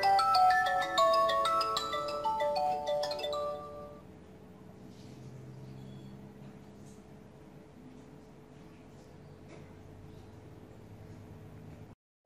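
A phone powers on after a firmware flash, from Jiake M8 to Jiake G8, and plays a bright melodic startup tune for a few seconds. The tune then fades, leaving a quiet hum with no talking.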